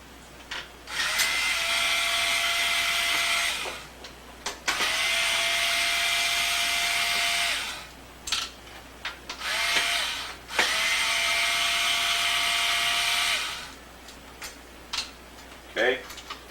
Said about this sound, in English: First of all, I'll take out the 4 small screws.